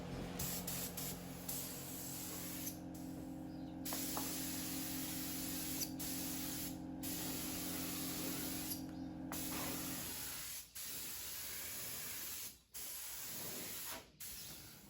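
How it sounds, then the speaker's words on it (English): Osmo oil sprayed onto an English oak resin table, a steady pressurised hiss that runs on and off in long bursts with a few short breaks, close and even, alone with no talk. "So I'm just spraying the oil."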